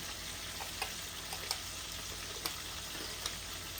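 Fenugreek seeds fry in hot oil in a home kitchen pan, a soft, steady sizzle with small crackling pops scattered irregularly on top, quiet and without talk.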